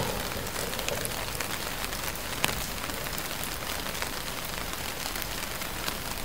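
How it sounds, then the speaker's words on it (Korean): Steady rain patters onto a Saramonic Ultra waterproof wireless microphone, a dense continuous hiss of close droplet ticks with a few sharper individual hits, no talking. "물론 이렇게 비가 내리는 상황에 일부러 마이크가 비를 막기 위해서 사용할 일은 거의 없겠지만"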